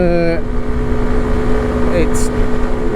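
Sym Wolf 125 motorcycle running in top gear uphill at around 54 mph, a steady, loud engine drone with wind noise, unbroken for the whole stretch.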